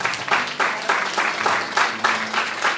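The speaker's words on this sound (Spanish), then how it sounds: "Un aplauso le damos a los varones del Señor" Crowd applause at a church service, with steady clapping throughout, rising and falling in bursts, fairly close and full.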